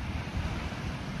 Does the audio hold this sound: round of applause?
no